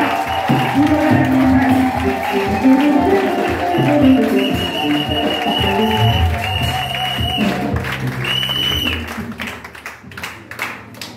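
A Pentecostal congregation at a seminar applauds vigorously, a dense, loud wash of clapping blended with voices and tonal music, thinning out toward the end.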